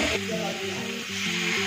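Chopped tomato dropped into hot spices in a pan, giving a loud, steady close sizzle with some stirring, over a faint underlying tone.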